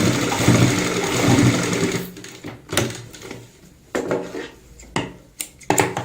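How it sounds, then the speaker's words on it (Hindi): Domestic sewing machine stitching a cushion cover, running in a steady continuous burst for about two seconds, then stopping, followed by scattered handling knocks and clicks of fabric and tools close by. "इस पॉइंट तक सिलाई लगाएंगे जहां तक हमारी सिलाई होती है।"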